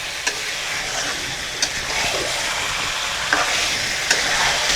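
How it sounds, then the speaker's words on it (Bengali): Chicken pieces being stir-fried in oil in a pan, a constant close sizzle punctuated by four evenly spaced sharp spatula taps against the pan. "এখন মাংসটা কষায় নেব যতক্ষণ তেল ছাড়বে না ততক্ষণ মাংসটাকে কষায় নেব এইভাবে"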